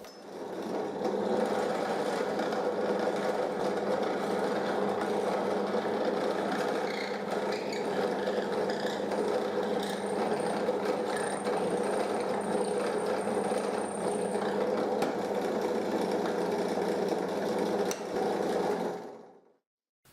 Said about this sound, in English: I use the disc sander to sand the edges of the pieces